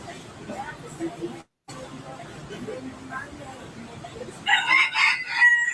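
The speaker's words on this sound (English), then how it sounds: "down in Key West, you see roosters all the time" A rooster crows loudly and close by at an outdoor restaurant in Key West, a bright, wavering call that rises near the end over steady background chatter and diner noise.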